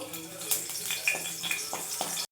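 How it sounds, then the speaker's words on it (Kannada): Chopped green chillies fry in hot oil, giving a close, continuous crackling sizzle with small irregular pops, ending abruptly. "ಒಂದೆರಡು ಈ ಥರ ಮೆಣಸಿನ್ಕಾಯಿನ ಕಟ್ ಮಾಡಿ ಫ್ರೈ ಮಾಡ್ಕೋತಾ ಇದ್ದೀನಿ"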